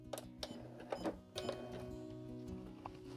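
A sewing machine back stitching on a quilt binding, a faint, quick run of short mechanical stitching pulses with light clicks in between.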